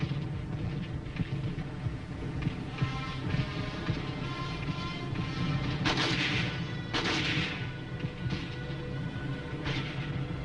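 Korean War battle fire from tanks and machine gun crews forms a dense, continuous roar of booms and bursts, with a few sharper heavy blasts standing out.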